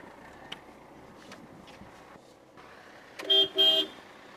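Car horn honking twice in quick succession near the end, loud and close, after a quieter stretch of outdoor background noise with faint knocks.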